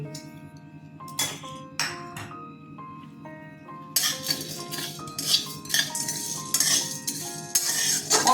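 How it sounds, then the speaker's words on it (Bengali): Cumin, coriander, black pepper and bay leaves dry-roasting in a pan: a few metal spoon clinks against the pan at first, then a louder crackling sizzle with repeated scraping stirs, close and without talk. "ধনে গোলমরিচ আর এই তেজপাতাগুলো দিয়ে দিলাম ভেজে নেবো"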